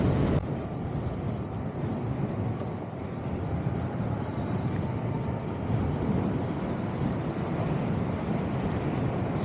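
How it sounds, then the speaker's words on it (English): Strong wind roars across the microphone in a dense, continuous rush while riding an electric unicycle, loud and close, with no voices over it. "this wind is even stronger going this direction now"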